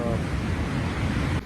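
Sea surf washing onto the shingle of Chesil Beach in rough March conditions, a steady broadband roar of breaking waves with some wind, continuous and fairly loud before cutting down abruptly near the end.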